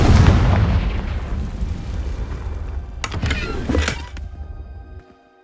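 A Confringo fire spell from Hogwarts Legacy blasts in a deep, booming rumble that fills the first five seconds, with two sharper bright bursts near the end before it cuts out.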